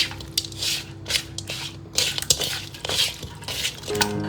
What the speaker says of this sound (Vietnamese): Rắc lá chanh vào, đảo đều và cho ra đĩa.